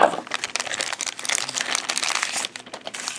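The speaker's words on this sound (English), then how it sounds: "let's just take our little razor blade, cut this open" A razor blade cuts open a plastic package holding sunglasses: continuous close, loud crinkling and rustling of plastic wrap with scratchy crackle throughout and no talking.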